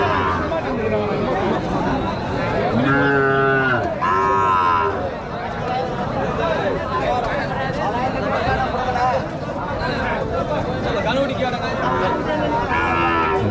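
Cattle at the Marappalli cattle market, where many cows and calves are gathered, moo loudly and repeatedly in drawn-out calls over a constant crowd babble and nearby chatter.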